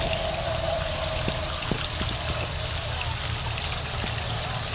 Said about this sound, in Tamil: ஸோ இன்றைக்கி தண்ணி ஓடிட்டுருக்கு